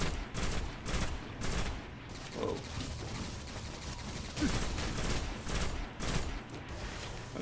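Bursts of video-game gunfire crackle in Destiny, fighting Vex in the buried city on Mars, with repeated sharp volleys and scattered shots over a steady background din at moderate loudness.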